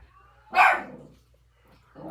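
A pet dog gives one sharp bark close by in a quiet room, followed by a short second yelp-like sound as it starts another bark.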